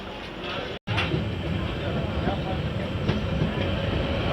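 The Dhauli Express runs along the rails near Bhadrak with a steady heavy rumble and faint periodic clacks, broken once by a brief dropout.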